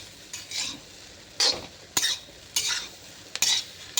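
Stirring bread poha in a pan, a dish of small cut pieces of bread seasoned with salt: a spoon or spatula scrapes and clinks against the metal in short, separate strokes at an uneven rhythm, close by with no talking.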